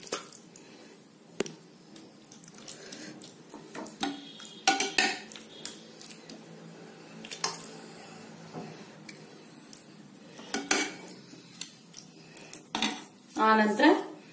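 Metal spoon scraping and clinking against a pot while spreading a gravy layer for Mughlai biryani, with intermittent bursts of scrapes and taps, close and moderately loud, no talking.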